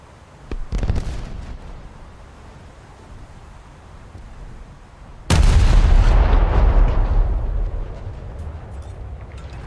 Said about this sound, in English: Oh, somebody's finally shooting me.